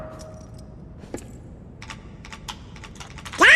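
Password typed on a keyboard in the Kingdom Hearts II video game, a short run of soft, quick key clicks at moderate level, ending with a louder burst.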